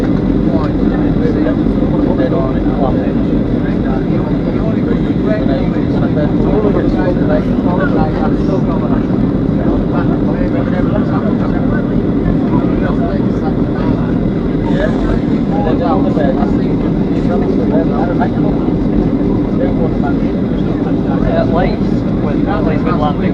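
Cabin of a Jet2 Boeing 737-300 on landing approach into Alicante: a steady, loud engine and airflow roar fills the whole stretch, with people talking over it.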